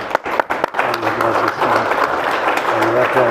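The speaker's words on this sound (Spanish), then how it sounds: "Un aplauso" An audience applauds at the end of a talk on the Cristiada as a popular uprising, with steady clapping throughout and voices talking over it.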